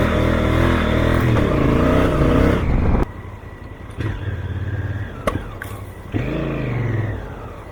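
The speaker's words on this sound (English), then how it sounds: "the popping I get when I rev it" Honda CRF1000L motorcycle engine revving loudly up close, with a rising then dropping rev, followed by quieter idle broken by sharp pops and crackles and another short rev near the end.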